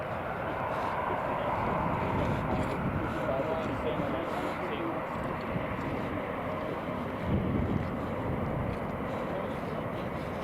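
Boeing 737-800 airliner at Newcastle International Airport, a steady broad engine roar holding at moderate distance for the whole stretch, with people talking faintly over it.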